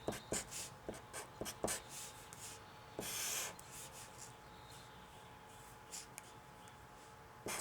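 A pen writes math on paper in quick, close scratches and taps, with a longer rubbing stroke partway through and quiet pauses between bursts of strokes.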